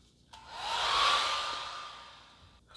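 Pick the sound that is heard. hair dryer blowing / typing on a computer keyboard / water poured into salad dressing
hair dryer blowing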